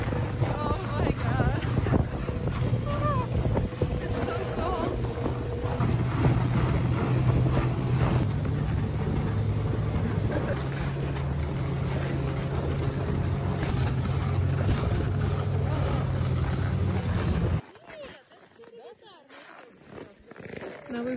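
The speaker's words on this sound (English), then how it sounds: "I have never been on a snowmobile for so long." A snowmobile ride through freezing Ural mountains in Russia at about -37°C, with a steady, loud engine drone and rushing wind noise for most of the ride, then the engine falls away to quieter surroundings near the end.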